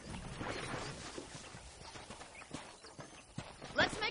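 Soft hoofbeats of a horse clop faintly on a ranch in Red Dead Redemption, uneven and distant beneath a low murmuring background, with a brief brighter sound near the end.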